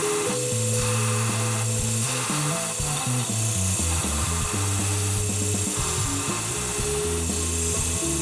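A small grinding wheel attachment on a rotary tool works carbon fiber knife scales, giving a steady close whine with shifting tones as the wheel bites and eases off. No one talks.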